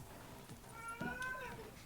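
A pet cat named Freya gives a drawn-out, whining meow close by, rising and then falling over about a second, with faint background sound around it.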